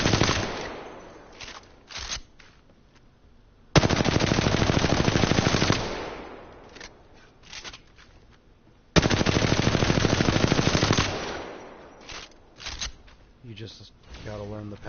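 Automatic weapon fire in Apex Legends, two long sustained bursts of rapid shots with shorter bursts and gaps between, loud and close, with a voice speaking over parts of it.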